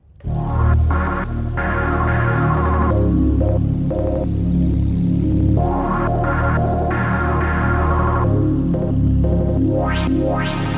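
A looping synthesizer pattern plays with a filter that sweeps slowly, brightening and darkening the tone, ending with rising zaps.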